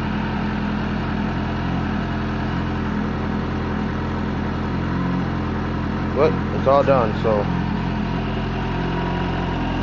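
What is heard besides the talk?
Suzuki Katana GSX600F motorcycle engine idling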